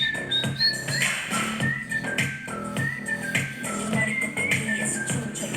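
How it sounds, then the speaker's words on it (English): A sliding whistle melody rides over a K-pop dance beat, repeated short whistled phrases above thumping rhythm. "Whistle."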